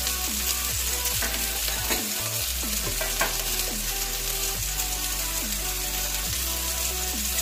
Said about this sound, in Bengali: বাটা লঙ্কাটা কড়াই দিয়ে দিচ্ছি।